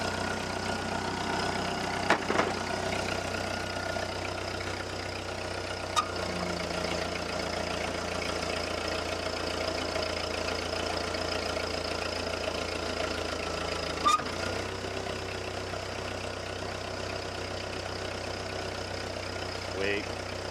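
A 1948 Ford 8N tractor engine idles steadily and evenly throughout, a low continuous hum with a few faint clicks and knocks over the top, heard close with no talking.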